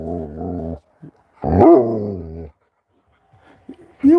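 A playful puppy indoors giving long growly whining vocalizations, two sustained rising bursts close to the microphone, separated by silence, then short yips and a final bark-like start.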